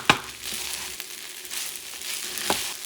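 Rice with scallops and chickpeas sizzles softly in a pan, a gentle steady frying hiss broken by a couple of brief scraping stirs.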